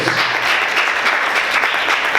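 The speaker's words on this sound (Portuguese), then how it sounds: "Vamos aplaudir o nome do Senhor com bastante alegria." A church congregation claps together continuously, a dense, lively burst of applause filling the room.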